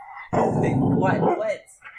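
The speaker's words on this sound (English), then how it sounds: "Don't you bark at me either." A dog gives a loud, rough bark that runs into a drawn-out growl, heard up close, with a voice speaking around it.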